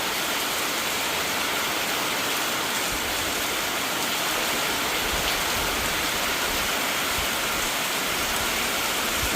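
Heavy rain pours down on a village, a dense, loud, continuous roar of water on surfaces that stays steady from start to finish with no voices.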